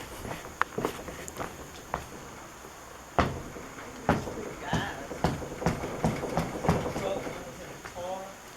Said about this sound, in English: You can hear it creaking when you step on it.